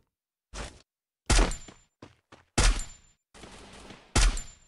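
Several bursts of gunfire from a shooter video game exchange, sharp loud volleys separated by short gaps, with a couple of smaller single shots in between, no talking.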